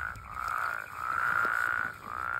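Woodhouse's toads call near Denver, Colorado, a chorus of long, nasal droning trills that swell and fade in overlapping waves, fairly loud and steady, with no voices.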